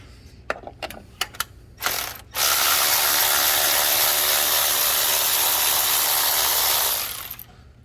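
A ratchet with a 5/8 spark plug socket loosens spark plugs on a 1996–2000 Honda Civic. A few sharp clicks come first, then a loud, sustained ratcheting buzz close up that stops near the end, with no talk.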